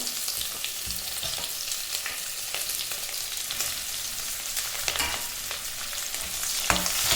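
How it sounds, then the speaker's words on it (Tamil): Two chopped medium onions fry in a pan with a steady bright sizzle, broken by occasional scrapes and stirs. The sound is close and continuous, with no voices. "ரெண்டு மீடியம் சைஸ் வெங்காயத்தை கட் பண்ணி வச்சுருக்கேன், அதையும் இப்போ சேர்த்துக்கிறேன்."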